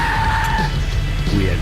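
A car skidding and driving in Max Payne 3, a high tire screech fading within the first half under a loud engine rumble, with voices shouting over it.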